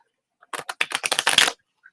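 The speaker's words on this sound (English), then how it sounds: "Miss Elizabeth Collins, let me shuffle this deck." A deck of tarot cards being shuffled, a quick run of about eight crisp riffling snaps close by that build to a dense flutter, then stop, with no talking.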